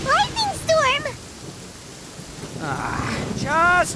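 Rain falling steadily during a lightning storm in Genshin Impact, a soft continuous hiss with faint low rumbling, interrupted by short voiced exclamations at the start and end.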